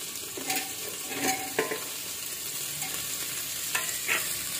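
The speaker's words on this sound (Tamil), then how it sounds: "இதெல்லாம் போட்டு ஒரு 2 நிமிஷம் வதக்கணும்." Carrots, beans and paneer sautéing in a pan produce a constant low sizzle, with a few soft stirring scrapes and taps, close by and with no talking.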